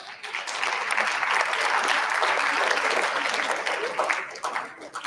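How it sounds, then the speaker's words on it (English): An audience at an AI and robotics education workshop claps steadily and fairly loudly for several seconds, a dense wash of hand claps that thins slightly toward the end. "Clap for your friends here."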